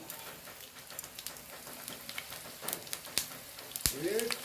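Rain patters on a metal sheet roof in a soft, irregular spray of taps, faint and distant, while someone talks and something sizzles in a pan nearby.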